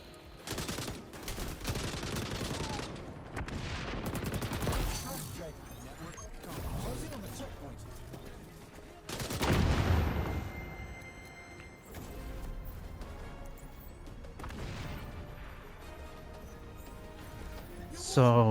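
Light machine gun fire in XDefiant chatters in intermittent bursts across a busy match, mixed with other game sounds while a voice talks over much of it.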